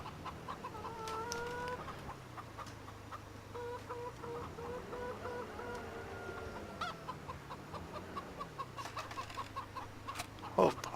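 Chickens on a farm in Farming Simulator 17 cluck repeatedly in short bursts over a low droning engine hum, with occasional sharper clucks and a louder squawk near the end.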